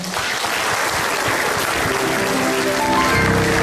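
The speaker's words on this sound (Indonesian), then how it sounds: "Boleh tepuk tangan dulu semuanya, boleh." Audience applause at a school-education discussion event, a dense burst of clapping from many hands that rolls on steadily and fairly loud before thinning toward the end.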